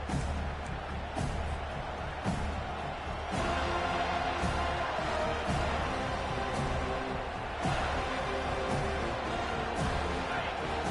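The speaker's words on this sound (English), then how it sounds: "This crowd, full throat, splitting the eardrums" Stadium crowd in College Football 25 roars continuously at home-field volume, a dense, sustained wash of cheering with occasional sharper bursts, while a commentator-style voice talks over it.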